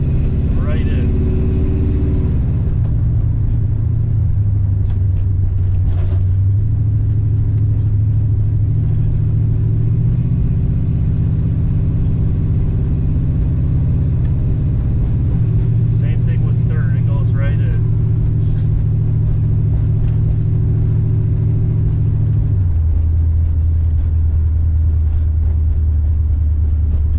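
A 340 Duster with a manual gearbox rumbles as it drives and shifts through the gears, its engine drone stepping down and climbing again with each change; someone talks over the engine from inside the car.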